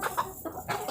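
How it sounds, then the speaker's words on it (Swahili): Chickens cluck softly in a coop with nesting boxes, a quick run of low, faint clucks over a second. "Tazama kuku wanavyoendelea kufurahia"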